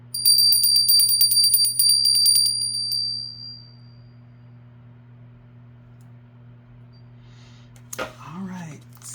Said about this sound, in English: I'm about to ring my bell to cleanse the energy.